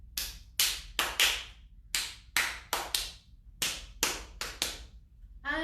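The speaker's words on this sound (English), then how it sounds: "now we do five claps." A series of sharp hand claps during a children's story-time singalong of the Bingo farmer song, struck in irregular bursts close to the microphone with no talking over them.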